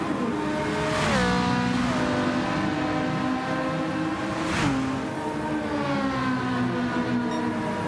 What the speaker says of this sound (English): Man, those cars sound good.